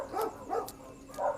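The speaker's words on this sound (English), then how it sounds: "I'm sorry about all the dog barking. I'm literally on a dog farm right now." Dogs bark on a dog farm, three muffled woofs spaced about half a second apart, somewhat distant and moderately loud, with no speech over them.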